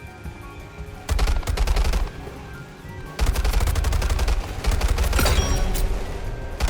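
SMG fire in the video game Weird Gun Game: loud, rapid automatic bursts, one short volley and then a longer sustained stream, with brief pauses between.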